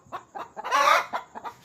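A hen clucks in short repeated bursts with one longer, louder squawking call in the middle, close by and with no talk.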